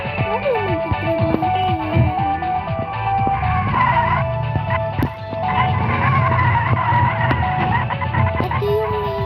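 A car in the Sakura School Simulator game drives and skids, with repeated tire squeals and engine revving layered over tinny background game music throughout, fairly loud and continuous.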